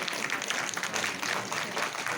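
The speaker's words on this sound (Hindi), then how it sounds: "जोरदार तालियां जोर से" Loud, dense applause from a local crowd at a BJP mandal welcome ceremony in Kaljikhal, sustained clapping that stays strong across the whole stretch.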